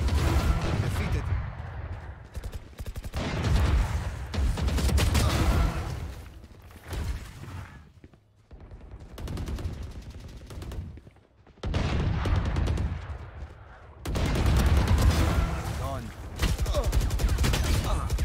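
Rapid rifle gunfire from a Valorant deathmatch, in bursts separated by short lulls, loud and close, with a voice talking over parts of it.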